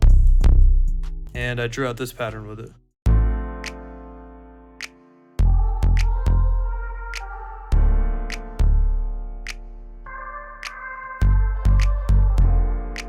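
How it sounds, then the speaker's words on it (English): A Moog bass pattern in FL Studio plays a deep, punchy sequence of notes for a beat, with someone briefly talking over the start. "Next thing I added was this Moog bass pattern."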